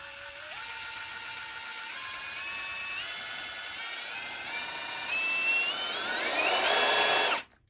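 A Milwaukee M12 power tool spins at its fastest loosening setting, a steady high-pitched whine that climbs in pitch in small steps, then surges briefly louder before cutting off near the end.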